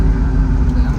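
A 1968 Shelby GT350 with a factory four-speed manual downshifts into second gear, its V8 giving a loud, deep, close rumble for about a second.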